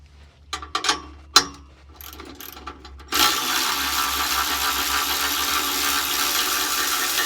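A ratchet works the exhaust muffler flange bolts on a 2022-or-later Subaru WRX, a few scattered close clicks and clunks at first, then a loud continuous buzzing whir of rapid ratcheting to the end.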